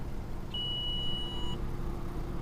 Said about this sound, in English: Every warning light is beeping at me.